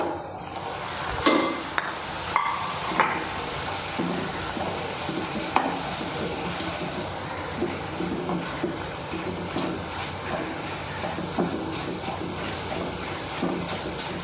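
Pappadam fries in hot oil, a continuous bubbling sizzle with scattered clicks and scrapes from stirring and lifting, close and steady throughout.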